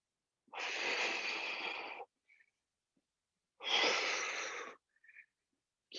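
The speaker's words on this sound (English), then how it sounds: "Breathing hard." Two long, heavy exhalations during an abs and core workout, each about a second and a half and close up, separated by short quiet gaps with faint breath sounds.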